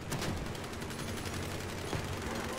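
Muffled, close gunfire from triple AROTHRON fragment shotguns on a fast tank-car build in the Crossout vehicle combat game, dull booming blasts blending into a steady roar of battle noise.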